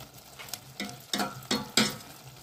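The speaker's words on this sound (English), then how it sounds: "I will let it cook together. Guys, you can see my herbs. It's getting cooked nicely." Wild cane herbs with a small tomato cook in a pot, with a few distinct stirring scrapes and soft sizzles spaced about every half second over a quiet bubbling background.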